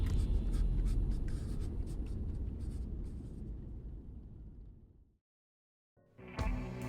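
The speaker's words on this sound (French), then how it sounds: "Il ouvrit son carnet et se remit à écrire." A pen scratches steadily across notebook paper, close and dry, then trails off into silence before a brief burst of sound at the end.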